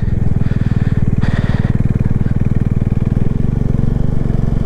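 A motorcycle rolls slowly through thick cloud on a mountain road in North Bengal, its engine thumping in a steady, close, loud rhythm at low speed.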